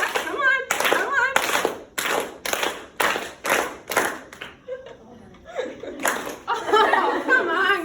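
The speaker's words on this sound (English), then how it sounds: "We gotta clap." An audience at a conference talk on women and the Church claps in rhythmic bursts, loud and close, with laughter and chatter mixed in and a pause before clapping swells again.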